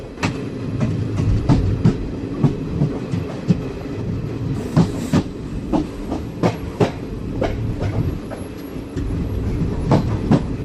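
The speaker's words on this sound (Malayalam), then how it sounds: "ഇപ്പോൾ ഷൊർണൂർ ജംഗ്ഷൻ റെയിൽവേ സ്റ്റേഷനിൽ പുറപ്പെട്ട നമ്മുടെ ട്രെയിൻ" A passenger train rolls along steadily near Shoranur Junction, Kerala, wheels clicking over rail joints in a repeating rhythm beneath a continuous rumble, fairly close and loud.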